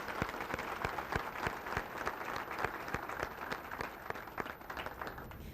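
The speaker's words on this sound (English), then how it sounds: "Could we please give Dr. Symington another round of applause" Banquet audience applause at a student awards dinner: a steady, fairly soft wash of many hands clapping, with distinct claps standing out in an even rhythm throughout.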